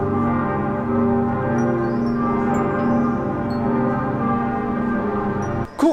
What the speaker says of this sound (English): If church bells make this amount of noise, we should check it out definitely.